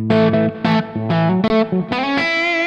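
An overdriven electric guitar plays a series of sustained chords and notes through an amp, with a thick, saturated tone and a roomy reverb tail.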